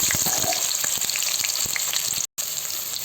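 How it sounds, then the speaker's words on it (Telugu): Potatoes and beans frying in hot oil with mustard seeds, a close continuous sizzle with crackling pops and a brief dropout near the end. "ఈ ఉర్లగడ్డలు పచ్చివాసన పోయేంత వరకు నూనెలోనే వేయించుకోవాలి."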